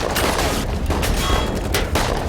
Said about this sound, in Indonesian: Dan aksi baku tembak pun terjadi